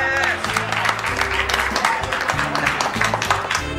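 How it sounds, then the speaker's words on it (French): A cabaret audience applauds a performer, brisk clapping running throughout under a droning musical backing and some voice-like tones, fairly close and lively. "Et une bonne main d'applaudissements pour la sensuelle Cindy"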